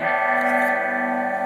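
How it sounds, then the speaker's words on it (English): Electric guitar through a phaser effect on a Blackstar ID Core 10 modeling amp, a sustained chord ringing steadily with a swirling, shimmering tone, heard alone and close at even volume. "That has a phaser."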